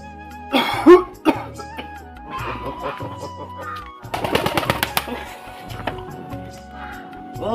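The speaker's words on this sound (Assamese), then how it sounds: "বহুত দিনীয়া কাহ এটাও আছে" A couple of sharp coughs early on from a long-standing cough, followed by throat-clearing and rough vocal sounds, with a later burst of harsher coughing, close by.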